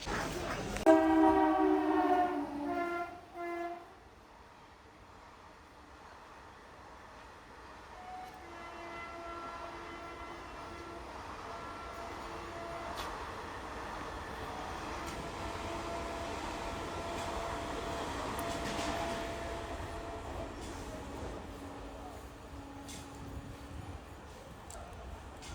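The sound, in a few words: Naihati local train arriving at Sodpur station platform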